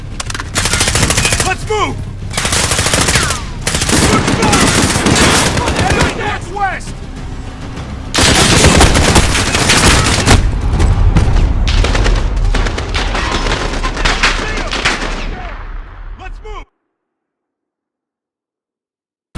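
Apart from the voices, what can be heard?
machine gun fire in video game Modern Warfare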